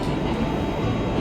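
A New York subway train at Smith and 9th station gives off a steady, loud rumble of wheels and cars rolling past, continuous and close with no breaks.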